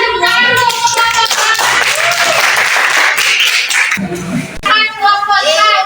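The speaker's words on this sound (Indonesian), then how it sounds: "Kita tepuk tangan dulu." A classroom of students claps together at a teaching-practice session in Indonesia, a steady burst of hand claps mixed with children's voices and chatter throughout, briefly dipping before talk resumes.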